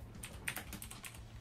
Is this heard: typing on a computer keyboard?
yes